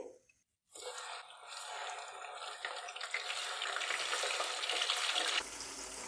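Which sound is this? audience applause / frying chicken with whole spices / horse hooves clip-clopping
frying chicken with whole spices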